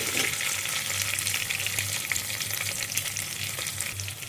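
Slit green chillies fry in a hot pan, a steady close sizzle with stirring running throughout, dense and unbroken, with a low hum from the stove underneath.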